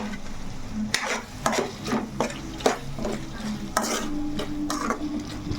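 Tamarind and curry leaves fry in a pan for a tomato chutney, with a steady close sizzle and a spoon or spatula scraping and clinking against the pan in a loose rhythm.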